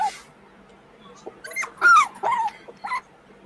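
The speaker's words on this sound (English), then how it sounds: "What sounds like a little doggy?" A small dog gives a few short, high yaps and whimpery yips in quick bursts over about two seconds, fairly close and moderately loud against a quiet background.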